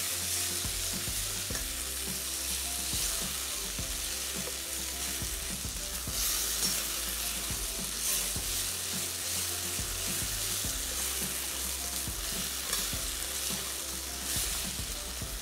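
Food being stirred and mixed in a hot pan in a home kitchen, with a continuous loud sizzle and repeated scraping strokes of a spoon against the pan, no talking.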